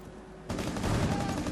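Rapid automatic gunfire in Rainbow Six: Siege, a burst that starts abruptly after a quiet moment and continues as dense, rattling shots at mid distance.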